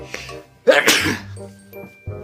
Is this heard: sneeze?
yes